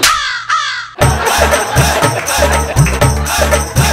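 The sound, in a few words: crow cawing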